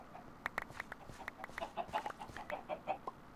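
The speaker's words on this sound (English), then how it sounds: "So I think our better emerald chickens are around the front here." Chickens cluck in Minecraft, modded Sky Factory 3, with many short, quick clucks overlapping in a steady busy patter, close and clear with no talk.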